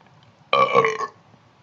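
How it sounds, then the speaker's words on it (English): A single loud, close burp lasts about half a second, standing alone between stretches of quiet room noise. "I got a burp."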